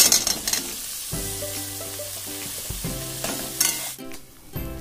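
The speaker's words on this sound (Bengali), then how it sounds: "এবারে এর মধ্যে সিদ্ধ করে রাখা আলুগুলোকে আমি দিয়ে দেব" Boiled potatoes and fried nuts go into a hot pan and get stirred, giving a continuous sizzle with scraping strokes and a few clattering knocks, no talking.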